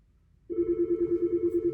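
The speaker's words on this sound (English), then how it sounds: "A phone is ringing right now." An office telephone starts ringing abruptly after a quiet moment, with a steady pulsing electronic tone, close and clear.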